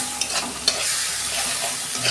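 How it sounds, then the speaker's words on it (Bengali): Pointed gourd and moong dal are sautéed in a pan, a close, steady sizzle with a few sharp stirring clinks scattered through the short stretch, no voices present. "2 মিনিট আমি কষাবো।"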